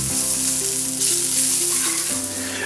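Sausage with brown sugar cooking in a pan, a loud steady sizzle with a faint tonal hum running underneath.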